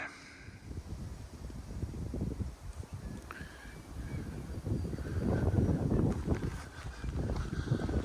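Wind blowing across an outdoor walking track near Castlemaine on the Goldfields Track, a steady broadband rush that swells louder in gusts toward the end, with faint rustling and no talk.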